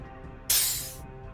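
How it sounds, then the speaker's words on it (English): A single burst of harsh, broadband hiss, like escaping air, from the video game Myst, cuts in abruptly for about half a second and then stops, over a faint low background hum. "Yeah, that's what I was calling a hiss."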